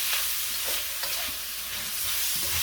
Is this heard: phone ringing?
no